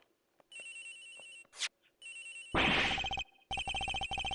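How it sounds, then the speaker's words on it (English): Cell phone ringing in the Ace Attorney Investigations video game: a repeating electronic ringtone in short chirping bursts, clear and fairly loud, broken midway by a brief rush of noise. "His phone is ringing from somewhere"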